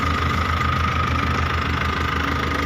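A 3000 turbo engine in a 4x4 two-cubic-metre dump truck with an electric hydraulic tipping pump runs at a steady idle, a loud close knocking diesel throb with rapid even pulses and no voices.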